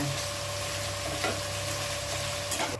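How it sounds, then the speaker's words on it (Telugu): Tomatoes and dried red chillies fry in a pan with a continuous, even sizzle and bubbling, plus faint stirring noises near the end. No talk is heard. "ఇప్పుడు ఈ టమాటాలు వేగినాయి, ఆ ఎండుమిర్చి కూడా వేగినాయి"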